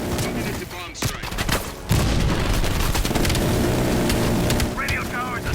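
Bombing strike explosions in Call of Duty: Black Ops Cold War, heavy rumbling blasts and crackling fire over a dense battlefield roar, with a loud surge partway through and radio voices.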